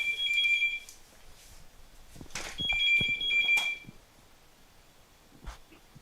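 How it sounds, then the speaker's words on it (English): A telephone on a home landline rings twice in bursts of electronic trills with a short pause between them, followed by quiet background noise. "it's the wrong line is ringing"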